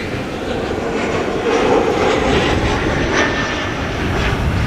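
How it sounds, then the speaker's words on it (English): A Delta Air Lines Airbus A350 approaches to land, arriving from Atlanta. Its engines give a steady, loud roar with a gradual swell, heard alone with no voices. "Third airplane now on the glide slope for the Kaagbaan is Delta Airlines Flight 74, arriving from Atlanta, Georgia. Nice A350."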